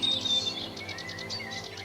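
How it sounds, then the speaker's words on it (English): Sedge warbler calling from a damp sedge meadow at the edge of a wood, a busy, chattering run of rapid high chirps and trills, fairly close and clear over a faint steady background hum. "And out on the perimeter of the wood, amongst a damp sedge meadow, another migrant, the sedge warbler."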